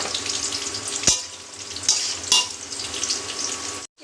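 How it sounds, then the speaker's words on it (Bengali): Pre-fried chicken pieces going into sizzling masala in a pan, a loud continuous frying hiss with several sharp clatters and a brief cut near the end. "এবার এর মধ্যে আগে একটু ভেজে রাখা মাংসটা দিয়ে"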